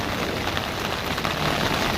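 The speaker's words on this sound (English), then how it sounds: "The Basilica Santa Croce in the rain" Steady rain pours outside the Basilica di Santa Croce in Florence, a dense, even patter on pavement and surfaces, close and continuous with no voices.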